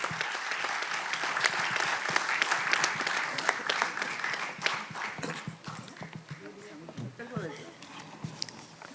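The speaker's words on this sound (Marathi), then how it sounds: "तेव्हा जोरदार टाळ्या वाजवून त्यांच्या अमृत महोत्सवानिमित्त त्यांना शुभेच्छा देऊया" A concert-hall audience at a classical music award ceremony bursts into loud, dense applause that holds strong for several seconds and then thins out and fades toward the end.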